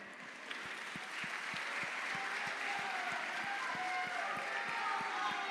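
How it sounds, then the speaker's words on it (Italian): Faint, distant applause rises from a crowd at an outdoor evening choir event in a Sardinian village, with a steady thumping beat running beneath the clapping throughout. "Un applauso."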